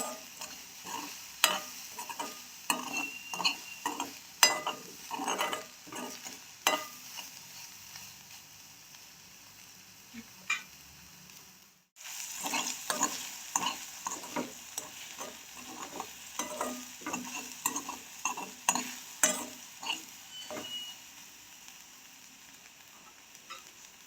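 Soaked soya meat is stir-fried in a pan, with a steady sizzle under repeated scraping strokes of a spoon. The stirring pauses briefly partway through, then resumes. No one speaks.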